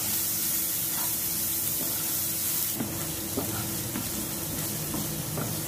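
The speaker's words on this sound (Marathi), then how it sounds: "आता यात बारीक चिरलेला कांदा टाकायचा आहे व तेलात जरासा परतून घ्यायचा आहे।" Finely chopped onion fries in hot oil with asafoetida, making a steady, close sizzle; partway through, several scraping stirs of a spoon cut in over the hiss, with no speech.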